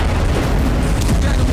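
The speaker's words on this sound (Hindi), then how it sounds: "गाजा के कई अस्पतालों में इजरायली सेना की आर्टिलरी हमास के लड़ाकों की तलाश में लगातार गोलाबारी कर रही है" Artillery shelling in Gaza: a loud, dense, continuous low rumble and boom fills the whole short stretch, heavy and close, with no clear voice.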